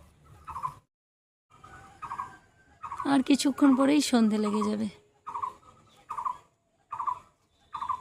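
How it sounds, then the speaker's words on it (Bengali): A bird calls outdoors in the late afternoon turning to evening, with a burst of loud, rapid gobbling cries in the middle and short repeated calls around it, while someone speaks nearby. "কি সুন্দর পাখিটা ডাকছে।"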